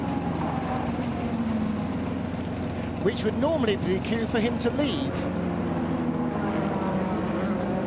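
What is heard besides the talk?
race car engine running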